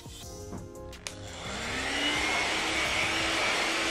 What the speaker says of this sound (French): donc l'astuce du sèche-cheveux, vraiment très pratique